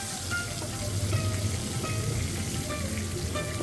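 Pointed gourd (potol) pieces frying in oil in a wok, a dense, even sizzle with small crackles, close and steady throughout.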